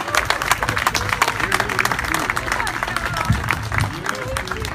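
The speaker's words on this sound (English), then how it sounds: "huge round of applause" A crowd at the National Cornbread Festival applauding loudly and continuously for a winner, dense clapping with some cheering mixed in throughout.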